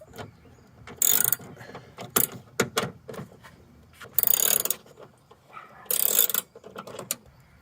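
Ratchet wrench with a 9mm socket undoing a trunk lock actuator bolt on a 2007 Lexus LS 460, with several bursts of rapid close clicking between quieter handling noises.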